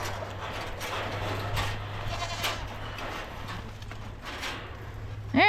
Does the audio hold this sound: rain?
no